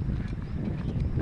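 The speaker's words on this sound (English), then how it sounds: "The closest I've ever been to a horse" Horse walking nearby on a muddy West Devon Way trail, hooves giving soft, irregular clip-clopping thuds over a brief, close, steady stretch with no voices.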